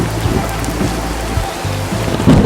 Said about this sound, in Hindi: आज से पहले तो इतना तेज तूफान कभी नहीं आया।